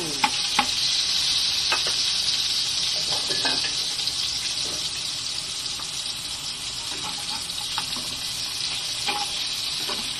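Butter or Star margarine sizzles in a pan while kare-kare is cooked, a bright, close hiss broken by scraping stirs and occasional clinks.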